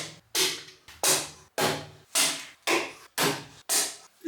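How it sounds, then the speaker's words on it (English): Clamps on a freshly glued workbench top being loosened in a garage workshop: seven sharp wooden knocks or releases at a steady rhythm, about one every half second, each with a short ringing decay, close and fairly loud. "Let's loosen the clamps and see how it went."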